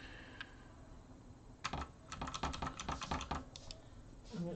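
Typing on a Redragon K557 RGB backlit mechanical gaming keyboard with blue switches: a quiet start, then bursts of sharp, clicky keystrokes in quick irregular runs, close to the microphone, with a final cluster after a short pause.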